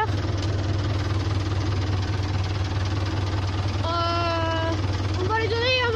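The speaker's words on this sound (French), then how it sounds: "Regardez, c'est moi qui conduis le tracteur." Tractor engine running steadily while being driven on a French cattle ranch, a loud continuous low drone throughout, with a brief whistle-like tone rising over it near the end.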